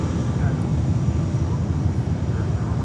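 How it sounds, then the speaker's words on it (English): Propeller aircraft or helicopter engine idling on the VIP ramp at Fort Lauderdale–Hollywood International Airport, a steady continuous low rumble that holds at one level throughout the clip, heard from a distance. "It's either a prop or a helicopter on the VIP ramp."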